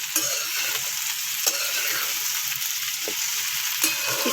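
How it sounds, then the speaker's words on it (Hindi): Okra and onions sizzle in hot oil in a pan, a steady bright hiss broken by several scraping stirs, close and alone with no talking. "तो अब मैं इनको अच्छी तरह फ्राई करूँगी"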